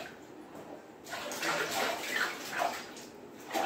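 A child splashes and stirs bathwater during a bath at home, with broken wet sloshes and irregular little bursts of splashing fairly close by, getting busier after the first second.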